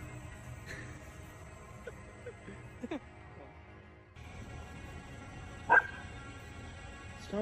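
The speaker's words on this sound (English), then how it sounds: "Stop barking, bud. What's wrong?" A dog gives several short, quiet yips and barks spread across a hushed indoor scene, with one louder bark standing out toward the end.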